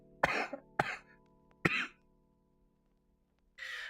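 Three sharp, close coughs in quick succession from someone recovering from a lingering illness, each with a short rasping tail, followed by a pause and a brief breathy throat sound.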